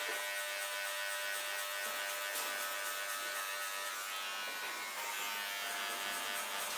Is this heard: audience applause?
no